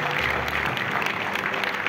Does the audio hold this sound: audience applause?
yes